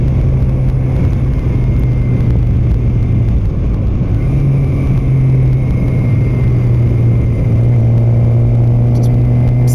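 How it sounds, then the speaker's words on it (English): A car engine rumbles loud and close for the whole stretch, a steady low drone with no clear rise or fall of a pass-by. "Scares the shit out of me when cars come around really fast like that"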